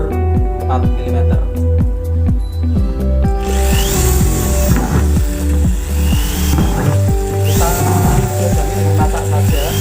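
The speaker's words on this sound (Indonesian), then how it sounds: "Untuk ember yang atas kita lubangi dasarnya atau bawahnya sejumlah kurang lebih 100 sampai 150 lubang dengan bor 4 mm." Power drill boring 4 mm holes through the bottom of a plastic bucket for a stacked organic compost bin, a loud, continuous whirring grind heard close up over steady background music.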